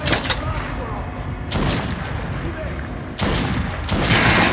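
Gunfire in the video game Metro: Last Light Redux, aimed at an armored target during a shooting tutorial: loud, close bursts of rapid shots with brief gaps between them.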